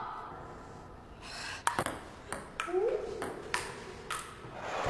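A table tennis ball is served and hit back and forth, several crisp pings and clicks in an uneven rally, with people talking over it.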